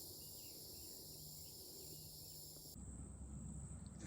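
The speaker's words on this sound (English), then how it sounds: "That's bugs making that noise," Insects drone in a Florida prairie preserve, a dense, steady high-pitched buzzing chorus that continues throughout, shifting slightly in tone partway through, with no voices present.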